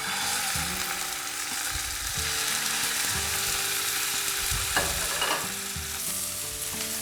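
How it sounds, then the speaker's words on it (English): Meat frying in olive oil in a frying pan gives a steady, close sizzle with a dense crackling hiss throughout, broken by scraping stirs and a few brief clatters of a utensil against the pan. "now we're going to fry it in our frying pan"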